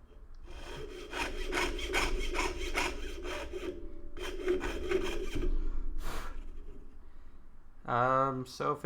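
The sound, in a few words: saw with 2/0 blade cutting thin metal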